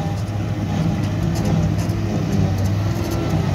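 A John Deere 6125M tractor engine runs at a steady mid-pitched drone, moderately close and continuous, with faint background noise at a silage harvest in Kerry.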